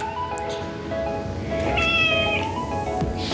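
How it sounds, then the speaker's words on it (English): A cat meows loudly and close by, giving several drawn-out, tonal calls one after another with no talking. "there's my other cat, Lydia, who came to visit."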